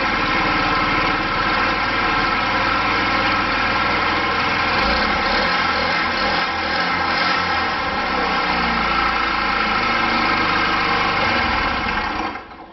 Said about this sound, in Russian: Видите, заводится хорошо, подгазовываю, газ работает.